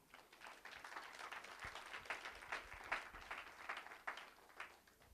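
Church congregation applauding, a steady wash of many hands clapping together, fairly faint and distant throughout.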